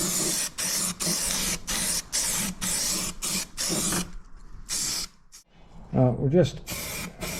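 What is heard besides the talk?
spraying Lanoguard rust proofing coating under car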